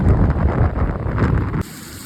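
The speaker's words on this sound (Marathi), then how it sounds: "पाऊस आला आणि राप राप राप राप राप पाऊस चालू केलं रे बाबा" A loud, rumbling downpour roars in a village, with wind buffeting the microphone, then cuts off abruptly to a quieter hiss.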